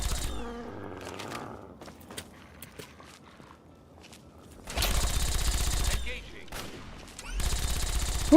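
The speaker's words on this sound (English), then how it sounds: "Who else you shooting at, bro?" Gunfire in Fallout 3, with bursts of rapid shots breaking out loud over a quieter stretch of game sounds, one long burst midway and another near the end.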